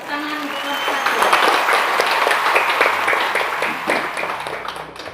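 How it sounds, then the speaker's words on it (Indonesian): Applause from a classroom audience of students for a school group after its drama performance, a steady dense patter of clapping lasting several seconds with voices mixed in. "Beri tepuk tangan untuk kelompok"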